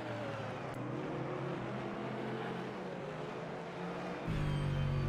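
A BMW GT3 race car in a sim racing game roars past at Mid-Ohio Sports Car Course, its engine note held steady and loud for several seconds before a sharp shift in pitch near the end.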